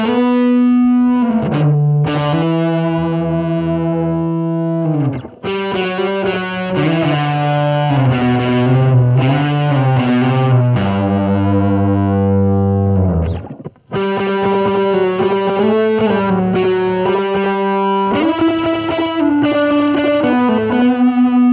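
Distorted electric guitar track with effects, re-voiced through a changed modeled microphone, playing sustained chords and riffs loudly and continuously with a short gap near the middle.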